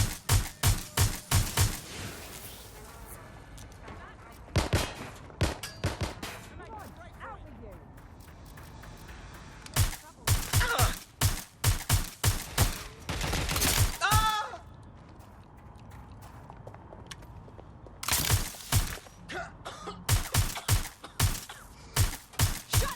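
Gunfire in Watch Dogs Legion, played on PC at very high settings: repeated loud bursts of rapid shots in clusters, separated by brief pauses, with voices in between.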